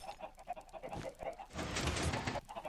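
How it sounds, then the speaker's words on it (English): Minecraft chickens cluck in short, soft bursts alongside other blocky game sounds, close by and moderately loud, with no voice over them. "The chickens are up here."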